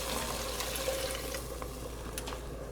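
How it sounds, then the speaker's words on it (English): About two cups of water pour into a pot of black-eyed peas and cabbage, a continuous close splashing and filling sound over a low steady hum. "I'm going to add in my cabbage and some water now."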